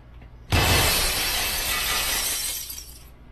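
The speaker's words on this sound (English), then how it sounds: "Did you just chuck the glass?" Glass shatters loudly and close, one sudden crash followed by a long, bright tinkling spray of fragments that fades out after about two and a half seconds.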